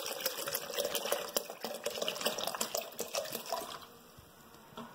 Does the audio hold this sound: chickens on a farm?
no